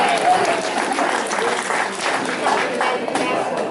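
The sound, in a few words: audience applause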